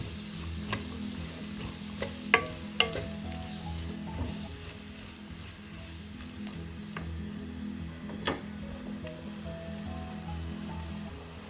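Sliced onions sauté with chicken in a pan for Kerala Malabar-style chicken curry, keeping up a soft, steady sizzle. A few sharp clicks of a stirring spoon break through now and then, with no voices.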